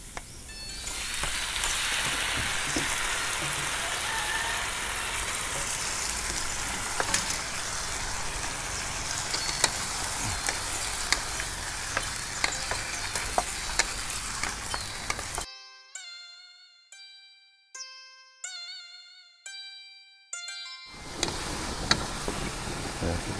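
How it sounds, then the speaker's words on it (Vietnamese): Ginger and garlic sizzle loudly in a pot of hot oil for a Taiwanese beef hotpot, a dense steady crackle that drops away briefly near the end, leaving a few sharp knocks and clinks, before the frying returns. "cho gừng vô, chút xíu tỏi, tỏi với gừng thơm"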